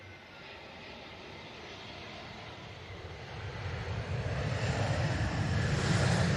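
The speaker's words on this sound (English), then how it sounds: "Easy Jet from Belfast coming in now." An EasyJet airliner arriving from Belfast comes in to land at Manchester Airport, its engine roar building steadily from a distant rumble to a loud, close drone with no voices over it.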